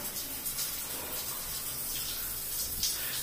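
Water runs steadily from a tap, a soft continuous hiss and splash at low level with no break.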